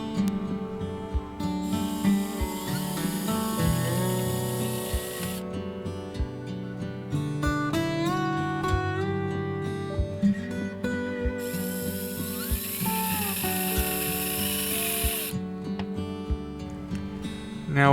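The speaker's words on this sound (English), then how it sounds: "so a hand drill will work." A hand drill whirs in repeated bursts, its whine rising and falling in pitch, with a harsher grinding edge when it bites into material.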